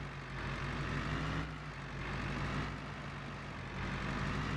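A logging truck with a gooseneck trailer idles in a video game on Silverrun Forest, its engine turned up very loud, a steady low rumble with slight swells in level.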